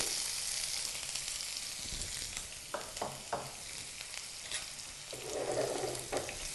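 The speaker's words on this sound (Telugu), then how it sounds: "ఈ ఉల్లిపాయ ముక్కల్ని ఆయిల్లో వేగనివ్వాలి బ్రౌన్ కలర్ వచ్చేంత వరకు వీటిని బాగా వేగనివ్వాలి ఆయిల్లో" Onion pieces frying in oil in a pan with curry leaves for a Telugu broad bean stir-fry, a steady soft sizzle broken by a few scraping stirs, close and moderately loud with no voices.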